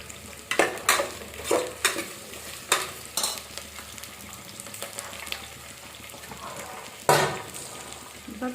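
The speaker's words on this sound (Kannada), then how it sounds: "ಇವಷ್ಟನ್ನು ಚೆನ್ನಾಗಿ ಫ್ರೈ ಮಾಡ್ಕೋಬೇಕು" Potato, carrot and other vegetables for mint pulao fry in a pan, with a spoon stirring in repeated, rhythmic scraping strokes over a constant close sizzle.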